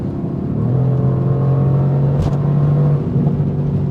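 A Mercedes-AMG GT R engine pulls hard on the Autobahn, a loud, steady in-cabin drone with a rising tone as the car accelerates, brief pops near the middle.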